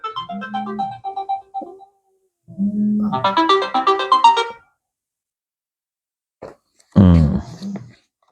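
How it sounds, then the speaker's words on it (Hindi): A phone ringtone plays a bright electronic melody in two bursts, then stops; a voice speaks briefly near the end. "अभी फोन बज रहा है"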